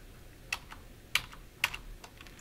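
Keys clack on a computer keyboard while an Excel formula is typed, with three sharper, louder keystrokes among softer taps at an unhurried, uneven pace, close by.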